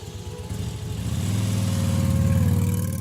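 A motorcycle engine starts up, coughing briefly before settling into a loud, steady low idle with a rhythmic putter, close by and heard alone.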